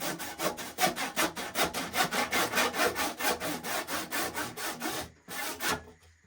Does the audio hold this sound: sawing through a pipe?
yes